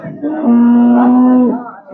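A single loud, sustained moo from an HF (Holstein Friesian) cow nearby at a cattle market in Punganur, steady and deep, rising and fading over about a second and a half.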